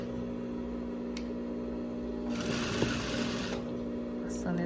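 A sewing machine stitches a baby romper over an existing seam, whirring in a short close burst midway through while a person talks over it, with faint clicks before and after.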